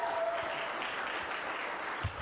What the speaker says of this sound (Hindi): एक बार तालियां होनी चाहिए सुशील के लिए यार।